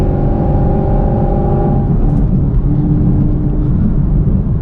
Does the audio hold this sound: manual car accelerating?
yes